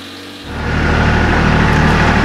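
A Kubota L3400 compact tractor engine driving a PTO generator starts up after a brief quieter moment and then runs at a steady, loud, broadband roar close by.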